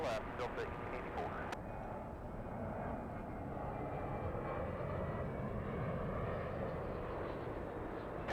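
Airliner jet engines spool up for takeoff at LAX, a steady broad roar that holds throughout, heard at a distance, with a faint voice underneath.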